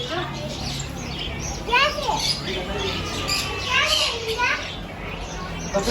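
Parrots chirp and squawk inside a bird shop in Navsari Bazar, Surat, their bright calls scattered over a busy background of voices and chatter throughout.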